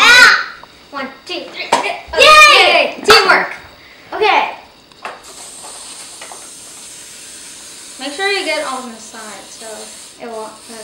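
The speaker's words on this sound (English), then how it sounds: "I'm just gonna spray the pan with some coconut oil" Children chatter and laugh, then coconut oil cooking spray hisses steadily onto a pan for several seconds before voices return over it.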